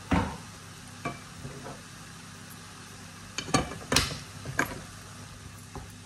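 Chicken pieces being stirred in a pan, a few scattered scraping and clattering strokes over a faint low sizzle, with quiet gaps between the movements.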